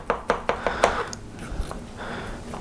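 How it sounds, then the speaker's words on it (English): A knife cuts into the corner of a dairy-free sourdough chocolate cake in a pan, making a quick series of five sharp taps against the pan, followed by softer scraping and a few light knocks. "So we're going to cut a little corner of this cake"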